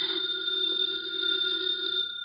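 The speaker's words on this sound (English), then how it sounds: "The phone is ringing." An old-style telephone bell rings steadily and close, a bright continuous metallic trill filling the whole moment without any talking.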